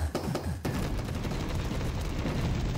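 Video-game gunfire in a Minecraft gun game minigame: a few sharp shots at the start, then a continuous dense rattle of rapid fire, loud and close, with no talk.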